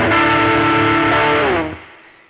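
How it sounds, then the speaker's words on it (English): A single heavily distorted electric guitar chord rings out loud and full, sustaining for over a second before being cut off and fading. "you can play with as much distortion as you want"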